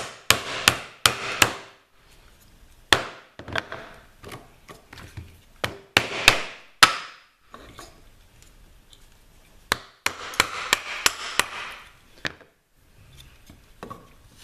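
Chisel cutting into wood for a bridle joint, sharp mallet-driven strikes in uneven clusters separated by quiet pauses, with scraping and paring sounds between blows, close and loud.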